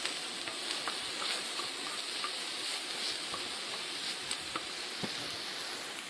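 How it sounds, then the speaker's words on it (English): Pie dough frying in a pan for a braai pie, giving a steady close hiss and sizzle with small crackling pops throughout, no talking. "Okay, and then we just fry these up a bit."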